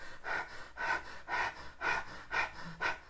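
A person breathes rapidly through the chest, imitating an anxiety attack: six quick, even breath bursts about half a second apart, close and breathy with no talk.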